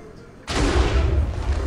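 An explosion in Minecraft bursts in suddenly after a quiet moment, a loud, broad rumbling blast that sustains with a deep roar.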